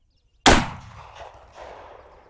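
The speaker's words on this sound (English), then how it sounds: "I'm going to take a center mass shot." A single loud, close rifle shot from a Remington 700 strikes ceramic level IV body armor, giving a sharp crack that fades into a long echoing tail outdoors.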